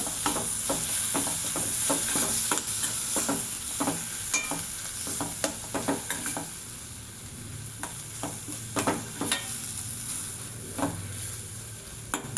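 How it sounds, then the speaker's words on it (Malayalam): Curry leaves and coriander leaves fry in a pan, with a steady close sizzle under repeated scraping strokes of a spoon stirring them, the strokes coming in an uneven rhythm throughout. "നമുക്ക് കുറച്ച് കരിവേപ്പില ഇട്ട് കൊടുക്കാം, കുറച്ച് മല്ലിയില ഇട്ട് കൊടുക്കാം. വേണ്ടോ ഒന്ന് ഇളക്കി കൊടുത്തിട്ട്"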